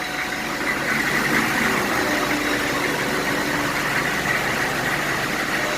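H1 Hummer engine idling after a new battery install, a steady, close, even rumble that holds without fluctuation throughout.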